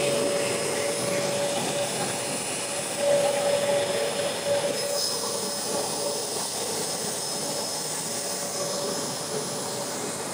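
A C100 ULV insecticide fog machine runs with a steady, airy blower roar and a faint tonal whine, holding constant and close throughout.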